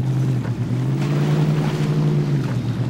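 Chevrolet TrailBlazer truck in MudRunner American Wilds ploughing through deep water with a snorkel fitted, a steady engine drone under a continuous wash of splashing and churning water, loud and close throughout.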